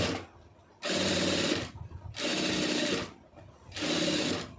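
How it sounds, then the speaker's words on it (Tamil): A sewing machine stitches an aari blouse in three sharp, loud running bursts separated by brief pauses, the motor whirring steadily and close during each run. "கரெக்டாக அந்த ஓரத்துலேயே வந்து தையல் போட்டுருங்க"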